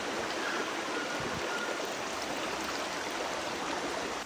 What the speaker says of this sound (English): Did you hear the sounds of the water?